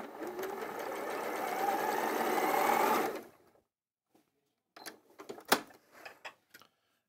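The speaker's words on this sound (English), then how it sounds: "you sew 4 of these strips together" A sewing machine stitches quilt strips together for a Lone Star quilt, whirring in a fast, steady run for about three seconds. It stops, then a few quiet clicks and handling taps follow.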